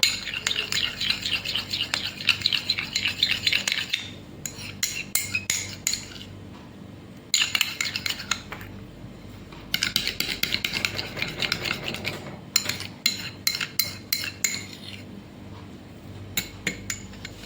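A small spoon scrapes and clinks against a bowl while mixing a yellow skin-brightening cream paste, in repeated bursts of rapid stirring separated by short pauses, close and fairly loud.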